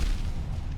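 An explosion in the video game Hollow Knight, a single deep, rumbling boom heard close and alone, fading slightly over under a second.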